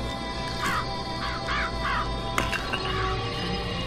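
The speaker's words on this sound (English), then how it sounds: "Murder of crows." Several crows in the video game Bioshock Infinite caw in a quick series of harsh calls over a steady bed of game ambience, fairly close and clear.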